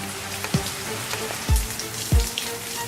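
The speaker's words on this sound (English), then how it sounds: "It's raining like crazy out here" Heavy rain patters steadily outdoors next to a barbecue where fish is being grilled, with a dense hiss of drops and a few sharper splats standing out near the microphone.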